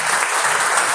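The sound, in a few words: church congregation applause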